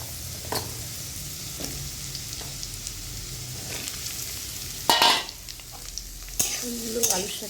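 Elephant foot yam and potato pieces sizzle together in a frying pan. A soft steady hiss runs under a few sharp scrapes and clatters as a spatula stirs the pan.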